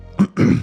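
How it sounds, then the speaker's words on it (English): A person clears their throat with a short, rough cough, two quick close bursts, loud and with no talking. "man, guess I gotta cough a little"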